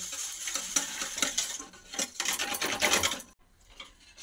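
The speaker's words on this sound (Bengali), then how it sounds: "টক দইটাকে ফেটিয়ে নিয়েছি" Sour yogurt being whisked in a bowl, quick scraping and tapping strokes in bursts, close and clear, then a short pause.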